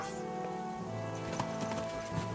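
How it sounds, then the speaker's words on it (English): Hooves of a horse clip-clopping in a medieval role-playing game, a faint irregular patter of soft steps over a steady ambient bed, with no talking. "Alright, where's my horse? There's Pebbles."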